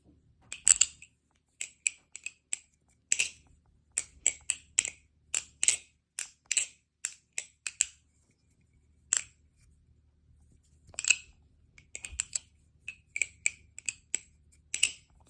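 Squid Industries Mako balisong trainer, lubed, being flipped: sharp, crisp metallic clicks and snaps in quick irregular bursts with brief pauses between runs, close and clear with no talking.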